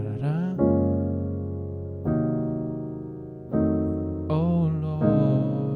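Piano chords in a gospel progression, sustained voicings struck in clear changes about every one and a half seconds, close and full, with no talking.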